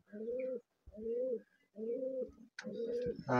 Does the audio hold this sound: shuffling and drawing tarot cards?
no